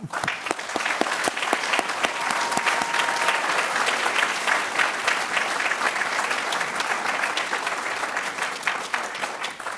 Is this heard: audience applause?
yes